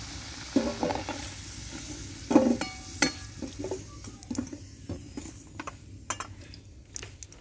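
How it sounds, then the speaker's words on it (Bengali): Potatoes and onion fry in oil in a wok, giving a light sizzle under repeated metal scrapes and clinks of a spatula stirring, with sharp knocks scattered irregularly throughout. "কড়াইয়ে অলরেডি ভাজা শুরু করে দিয়েছি"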